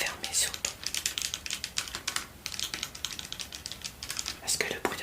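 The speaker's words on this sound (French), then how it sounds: "Est-ce que le bruit de l'ordinateur, du clavier vous gêne?" Rapid computer keyboard typing, close and crisp, with bursts of clicking keys and brief pauses in between.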